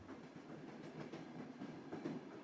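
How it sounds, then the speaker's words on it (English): A steady passenger train rolls along the tracks with a continuous clickety-clack rhythm over a rumbling wagon drone, close and fairly loud throughout, with no voices. "The train clicked and clacked over the tracks."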